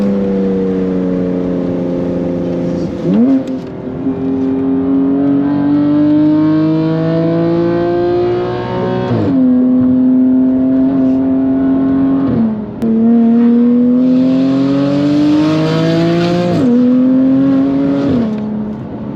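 A BMW F80 M3 with an S55 engine and equal-length exhaust roars loudly as it accelerates through several gears, pitch climbing steadily then dropping sharply at each shift, close and powerful.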